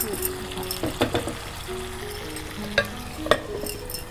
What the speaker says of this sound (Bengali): পুরো সসটার মধ্যে আমরা এখন কিছুক্ষণ রান্না করে নিচ্ছি